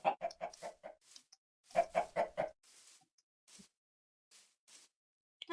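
Hens cluck close by in quick bursts of several notes, separated by short pauses, with softer scattered clucks trailing off.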